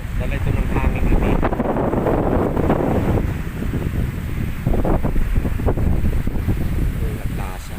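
Strong wind buffets a boat out at sea, a loud, continuous roar with gusty surges and the wash of waves, while someone talks over it.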